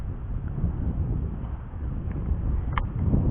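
Wind buffets the microphone in a steady low rush, gusting slightly, with no one speaking.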